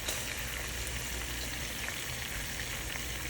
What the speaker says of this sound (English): You know that it's time when the basil starts to sizzle a little bit in the olive oil.